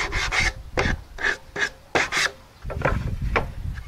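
Wooden base trim is sanded by hand at close range: short, distinct rasping strokes come in quick pairs and bursts, ending in a rougher, steadier stretch of rubbing.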